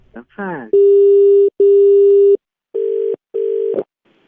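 Repeated steady telephone busy tone after a call is cut off, loud and close, sounding in long beeps with short gaps, preceded by a brief burst of voice.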